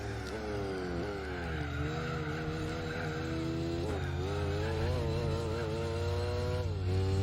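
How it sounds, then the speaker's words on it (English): Gran Turismo 4 race cars roar in loud traffic, engines droning and shifting pitch with tire skids, a continuous close engine din throughout. "Loud traffic."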